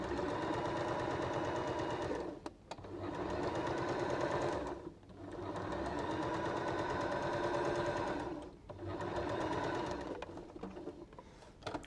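A sewing machine stitches fabric in three long steady runs, each a buzzy mechanical whir, separated by brief pauses as the work stops, fairly close.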